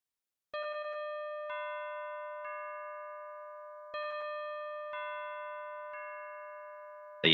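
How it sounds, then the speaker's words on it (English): Synthesized bell tones struck in a repeating high, medium, low sequence, each clean ringing strike decaying slowly before the next, the three-step pattern sounding twice in quiet isolation. "So the first bell sound is going to be at 600 Hertz, then down to 500, then down to 400."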